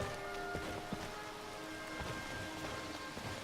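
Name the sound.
rain in video game Skyrim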